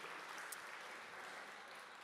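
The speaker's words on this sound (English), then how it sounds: "give them a round of applause" Faint applause from a church congregation, a soft, steady wash of many hands clapping together with no gaps, heard from a distance across its brief length.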